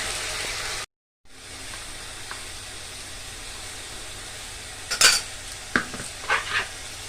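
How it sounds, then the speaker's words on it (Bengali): Masala fries in a pan with a steady, close hiss of sizzling, broken by a brief silence near the start, then a few light utensil clinks and scrapes toward the end. "মশলাটা ভাজা যাক।"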